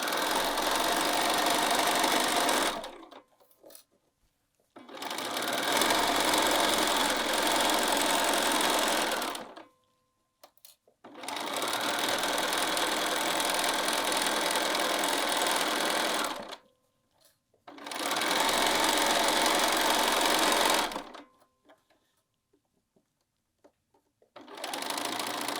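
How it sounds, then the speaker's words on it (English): A sewing machine stitches a seam across bias binding strips with a small stitch length in four long, steady, buzzing runs. Each run lasts several seconds, with short quiet pauses between them, loud and close. "we're going to just sew across our seam line with a smaller stitch length than normal so that we don't need to back tack"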